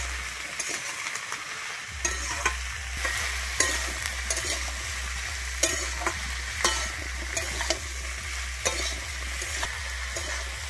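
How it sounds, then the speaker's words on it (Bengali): Beans, eggplant and taro being stir-fried in oil, a steady close sizzle broken by a regular run of spatula scrapes and clacks against the pan. "আমি এবারে ভালোভাবে মিশিয়ে নিচ্ছি তেলের সঙ্গে"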